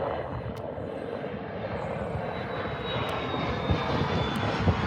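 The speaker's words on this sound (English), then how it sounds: "And there's the Embraer Predator going out." An Embraer business jet departing Liverpool John Lennon Airport, its engines producing a broad, steady roar that builds slightly in loudness over five seconds, heard from the ground with no talking.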